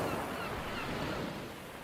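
Steady broadband wash of ocean surf rolling onto a beach, continuous and fairly even for about two seconds with no voices, the roar holding a constant level before easing slightly at the end.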